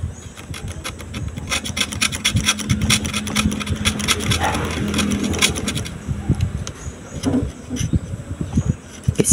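Metal on a CRT TV circuit board is scraped before soldering, giving a close, steady run of gritty rasping strokes with a few small clicks and knocks, no voices over it.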